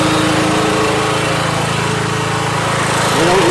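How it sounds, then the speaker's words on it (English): A blower runs on a DFX4 charcoal gasifier, giving a loud, steady motor drone with a low rumble that holds unchanged close by, with no talk. "I can shut the blower off."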